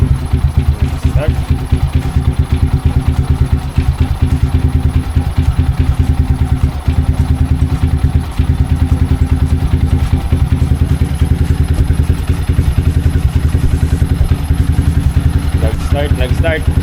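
A Yamaha Sniper 155R motorcycle engine idles steadily and close by right after starting, with a continuous low rumble and clatter that stays loud throughout; a voice speaks over it.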